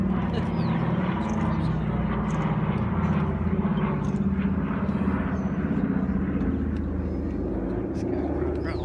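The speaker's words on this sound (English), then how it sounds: "From the left, the Douglas C-47 Skytrain" Douglas C-47 Skytrain vintage piston-engine aircraft flying over in formation, a steady, loud droning propeller roar sustained throughout, with a loudspeaker announcer audible faintly beneath it.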